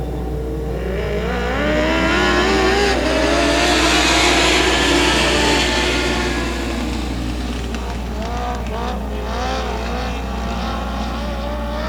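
Race cars roar around 281 Speedway, a dirt oval track, as engines rise to a loud close pass and fade back into a steady drone with the rest of the field behind.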